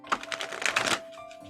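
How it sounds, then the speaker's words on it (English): A deck of gilded shamanic healing oracle cards is shuffled by hand, giving a quick run of dense riffling clicks for about a second up close, then a brief softer settle. "Yeah, they shuffle nice."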